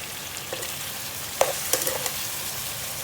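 Chicken for tinola sautéing in a pan: a steady low sizzle carries throughout, with a few brief sharp clinks and scrapes from a utensil near the middle.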